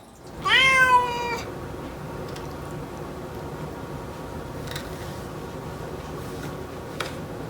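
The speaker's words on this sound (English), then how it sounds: "she's an adorable cat" A house cat gives one loud, drawn-out meow close by, followed by several seconds of quiet room ambience with faint ticks and soft taps.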